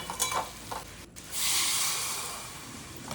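Brinjal pieces frying in hot oil: a few stirring scrapes at first, then a steady, loud sizzling hiss swells up and slowly fades, with no talking.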